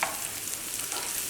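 Food, likely pickle ingredients, sizzles and is stirred in a frying pan: a brief, faint crackling hiss lasting just over a second, with no voices.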